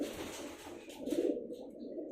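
Bandangan pigeons coo softly nearby, a few low rolling throaty coos with a brief flutter of rustling, faint and unhurried against a quiet background.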